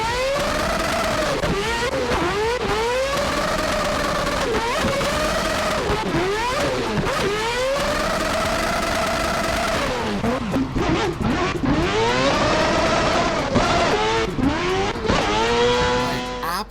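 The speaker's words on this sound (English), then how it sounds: "Absolutely insane hearing that thing hit the rev limiter." A 4-rotor Toyota Supra drift car screams through a touge section, its engine repeatedly bouncing off the rev limiter in loud, sustained bursts with rising and falling pitch sweeps and faint tire squeal, close and continuous for the whole stretch.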